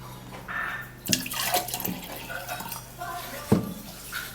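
Water splashes and pours into a container in short bursts, with clinking and faint background sounds.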